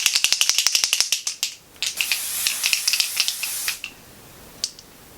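A Dior bronze tint spray is pumped in a fast series of short, close hissing bursts, followed by a longer spray, a pause and one last spritz.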